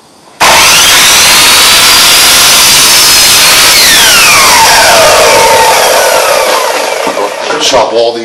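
A power saw cuts boards for a lean-to shed being added onto a pole barn: a loud whine starts abruptly, holds a high pitch, then drops in tone as the blade bites through the wood, before winding down.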